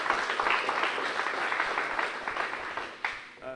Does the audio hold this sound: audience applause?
yes